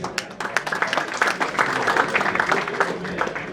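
A crowd at a cricketers' reunion function gives a round of applause, steady clapping swelling slightly and holding throughout, moderately loud and close.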